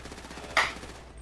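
A single sharp gunshot from the video game GTA V cracks out during a heist mission, one loud burst that quickly decays over a low background hum.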